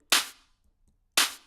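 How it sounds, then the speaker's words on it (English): Two separate clap drum samples in Logic Pro, each a sharp bright burst with a short decaying tail, about a second apart, dry and close with silence between. "these are the clap samples I used."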